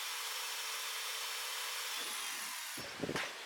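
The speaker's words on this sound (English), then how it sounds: "I'm going to drill some holes in it" A power drill bores drainage holes into a garden trough outdoors on a windy day, a steady broadband grinding whir running unbroken for nearly three seconds before stopping, followed by a few brief knocks and wind buffeting.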